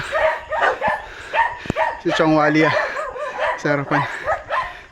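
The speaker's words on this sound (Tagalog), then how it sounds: "Maraming aso." Several dogs bark and yip in short bursts during a night ride near a school on the Mount Balagbag cross-country enduro loop, mixed with people talking and laughing close by.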